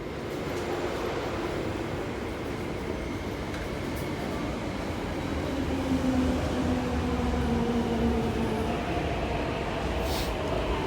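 An MTR train runs at Ma On Shan Station in Hong Kong, a steady loud rumble and rolling hum holding throughout, with a faint rising whine near the middle and no talk.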